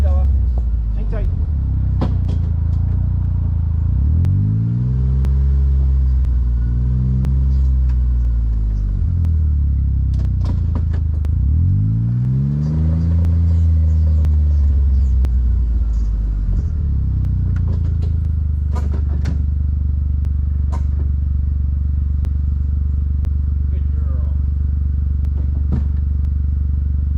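A car drives slowly along a trail through a sugar maple forest, its engine rumbling close with several rising and falling revs and scattered clunks and rattles over the rough ground.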